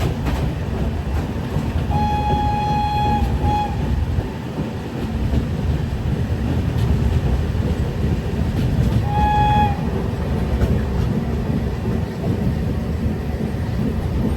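Barauni to Jaynagar Express pulling into a station in Bihar, with a steady loud rumble of rolling wagons throughout and two short high whistle or horn-like tones sounding around the middle.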